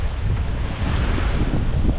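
Strong wind buffets the microphone aboard a small sailboat during a first sailing lesson, a loud continuous rush with water washing underneath.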